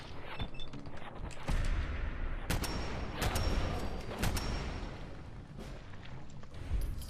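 Scattered gunshots in Fallout 4 crack over a busy combat din, several distinct sharp reports spaced irregularly amid a steady background rumble, moderately loud with no talking.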